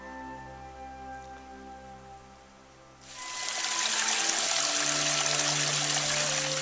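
Water trickling and rushing beside a mountain trail on Mount Katahdin via the Abol Trail, a faint steady flow that swells into a loud, close broadband rush after a few seconds.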